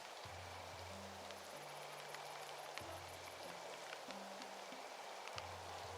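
Steady rain hisses through a rainstorm in the inn-management game Inn Tycoon, a continuous even wash of drops with faint low tones from the game's music underneath and no voice.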